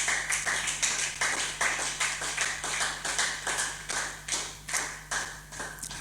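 Congregation in a church service clapping together in a steady, sustained rhythm, loud and continuous, with no talking over the applause.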